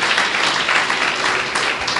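An audience breaks into sustained applause, a dense, loud wash of clapping from many hands lasting a couple of seconds.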